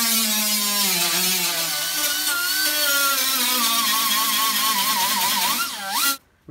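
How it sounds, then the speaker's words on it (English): A loud power tool runs continuously during Can-Am Spyder suspension and rust repair, its motor pitch wavering up and down before it winds down and stops. "You like the sound of power tools."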